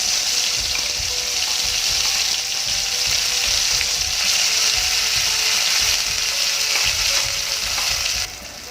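Ginger, garlic and chili paste hits hot oil with a bay leaf in a pan for Punjabi chicken gravy, giving a loud, steady sizzle with light stirring scrapes that eases off at the very end.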